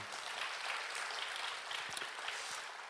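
A church congregation applauds together in thanks and praise, a steady wash of many hands clapping at moderate distance, continuous and even throughout without talk on top.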